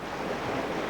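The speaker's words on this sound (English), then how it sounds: "Every minute of every day, the waves break on the beach." Ocean waves breaking on a sandy beach, a dense continuous rush of surf without pause, fairly close and steady throughout the short moment.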